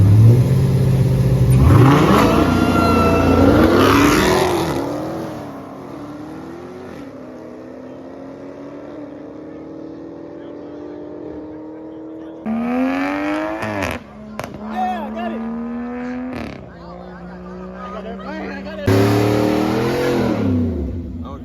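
Race cars on a race day in Mexico accelerate and rev hard, rising engine tones climbing in pitch near the start, then a steadier drone with fresh bursts of revving later; loud and close, with some voices mixed in.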